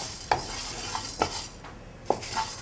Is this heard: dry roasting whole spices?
yes